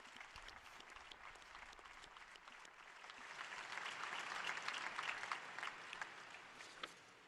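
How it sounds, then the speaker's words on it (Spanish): Applause from a crowd of pilgrims at a papal general audience for a newly beatified person, sustained clapping across a large space that swells in the middle and tapers at the end. "Un aplauso al nuevo beato."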